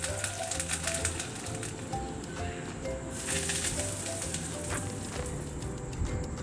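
Mustard seeds, red chillies and a sprig of curry leaves sizzle and crackle in hot oil as a tempering for coriander chutney. Dense, steady frying hiss with rapid popping spatters, close and continuous, with no talking.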